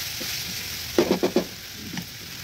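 Tomato curry stirred in a pan gives a soft sizzle with a quick run of four scraping strokes near the middle and a couple of fainter ones after, close and quiet, with no voices.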